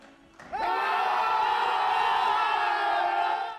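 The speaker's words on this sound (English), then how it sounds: "Down below, hundreds of fans screamed in joy." Large crowd of football fans in Riyadh erupting into loud, sustained cheering and screaming in celebration of the World Cup hosting announcement, rising suddenly and holding at full volume.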